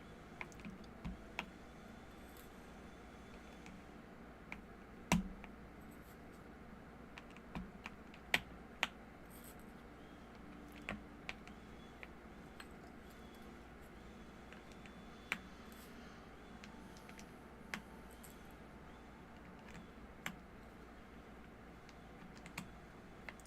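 Typing on an Epomaker RT85 mechanical keyboard fitted with B2U Hyacinth switches: a steady run of close, crisp keystroke clicks with irregular rhythm and occasional louder, sharper presses, heard alone with no talking.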